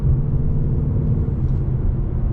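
A 2024 Ford Mustang GT with the 5.0 V8 and six-speed manual cruising, a loud, steady low engine rumble and drone inside the cabin with no gear changes or revving.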